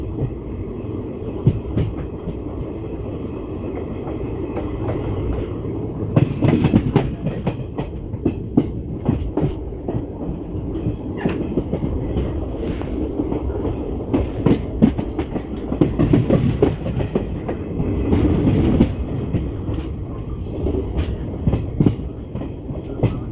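Janta Express passenger train running on rails between stations, a steady rumbling roll with rhythmic clickety-clack of wheels over rail joints throughout, heard from on board without talk.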